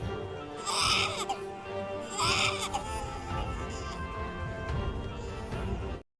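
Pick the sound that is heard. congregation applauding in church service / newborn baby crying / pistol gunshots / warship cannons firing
newborn baby crying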